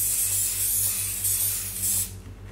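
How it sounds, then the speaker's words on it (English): Several short bursts of hissing cooking-oil spray from an aerosol can onto potato and vegetable croquettes, close up and fairly loud, ending with a final release before quiet. "give them a little bit of a spray on the top with that spray oil"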